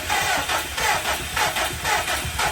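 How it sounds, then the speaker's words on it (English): A 2020 Subaru STI engine cranking without catching, a close rhythmic whirring starter churn repeating in about five even pulses over a couple of seconds, no talking. "the engine, it cranks, but it doesn't start, and it won't."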